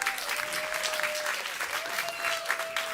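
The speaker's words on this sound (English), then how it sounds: "Give him a round of applause" A live audience applauds to welcome a chef: dense, steady clapping from many hands, close and even throughout, with a faint tonal whine running underneath.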